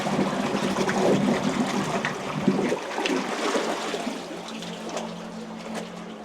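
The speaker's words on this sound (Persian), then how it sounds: "این قنات چه تابستون چه زمستونش که بیاد اینجا آب داره این قنات" Water runs and splashes through a qanat in Yazd, Iran, a fairly close, continuous rushing trickle that is fuller at first and then settles into a softer flow.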